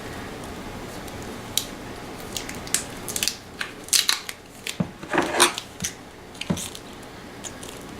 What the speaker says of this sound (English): I'm just going to use a little piece of duct tape to secure them.